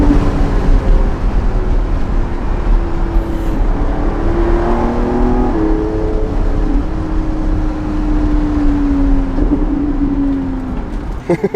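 A Lamborghini Revuelto V12 accelerates from inside the car, a loud, droning engine note climbing steadily in pitch over road noise.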